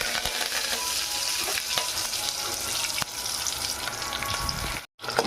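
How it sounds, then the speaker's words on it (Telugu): Curry leaves and mustard seeds fry in hot oil for an Andhra-style tomato dal, a dense, close, steady sizzle with scattered crackles and pops that stops abruptly near the end. "కరివేపాకు కొంచెం అలా వేగితే బాగుంటుంది."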